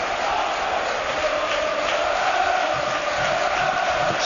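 Football crowd at Bournemouth's stadium during a match against Manchester United, a loud sustained roar of many voices cheering and chanting throughout, with a faint voice mixed in.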